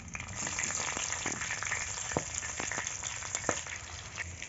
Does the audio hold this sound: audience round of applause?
no